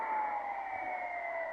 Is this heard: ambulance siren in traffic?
yes